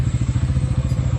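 A motorcycle engine chugs loud and close in a rapid, throbbing low rhythm as the bike struggles along a muddy route, with faint clattering over it and no voices.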